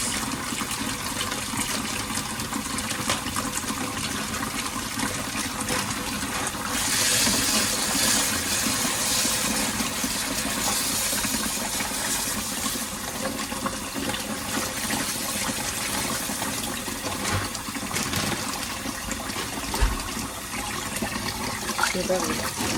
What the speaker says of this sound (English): Let's go ahead and wash our rice.